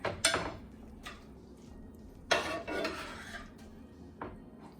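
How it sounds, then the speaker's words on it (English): Seasoned meat for dirty rice being mixed in a pot, with a few scraping and knocking strokes of a utensil against the pot, close and fairly quiet, with short gaps between strokes. "now you're gonna mix that"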